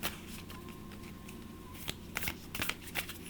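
A deck of tarot cards is shuffled by hand, starting with soft riffling and rubbing and then moving to a cluster of sharp, quick card flicks and slaps near the end, close and fairly quiet.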